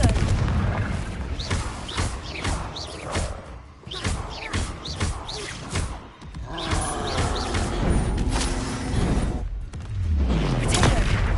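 Confringo spell explosions go off in a video game, a dense run of heavy booms and thuds one after another, loud and close.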